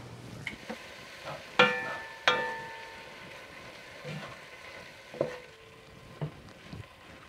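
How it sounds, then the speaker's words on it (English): Ground beef browning in a pan for chili and meat pies: a steady low sizzle runs throughout, punctuated by a few sharp metallic clanks and scrapes of stirring, close and moderately quiet. "I've got the meat browning for the chili and for the meat pies"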